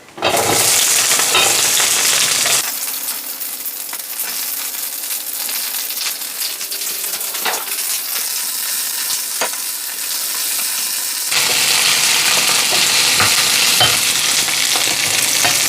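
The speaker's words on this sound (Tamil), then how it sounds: "இப்போது நம்ம ஆனியன் சேர்த்துக்கலாம்." Sliced onion hits a pan of oil with golden-browned garlic and sizzles loudly, a steady close frying hiss with stirring scrapes through the middle, then the sizzle surges again near the end.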